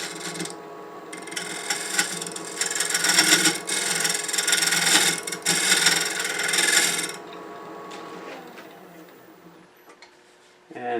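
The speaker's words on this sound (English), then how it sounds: "I'm going to use a shear scraper and just take that inside down a bit" A shear scraper cuts inside a turned wooden box spinning on a lathe, giving a close, steady rasping scrape that swells for a few seconds and then drops back to the lathe's quieter hum, ending in a brief knock.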